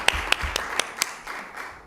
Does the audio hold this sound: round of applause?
yes